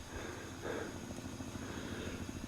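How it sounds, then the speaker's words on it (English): Helicopter carrying tourists over a mountain summit at sunrise, heard as a faint, distant low rotor rumble with soft pulsing in an otherwise quiet open-air setting. "Actually, there was a helicopter up in the sky there too."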